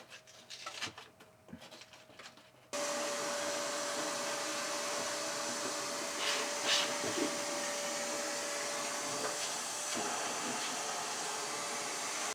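A vacuum cleaner switches on after a few quiet seconds of rustling and then drones on steadily while cleaning out an empty, cobwebbed closet, a loud continuous whoosh with slight shifts as it moves.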